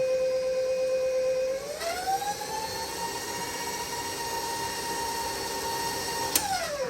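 A small electric hand mixer whirs close and steady through cinnamon roll blondie batter, its motor pitch rising as it speeds up and then holding a constant drone until it cuts off near the end.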